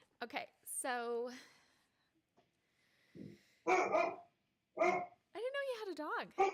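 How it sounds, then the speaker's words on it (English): A dog barks in short loud bursts indoors, with whines and growly yelps between pauses, close by and alone. "I didn't know you had a dog."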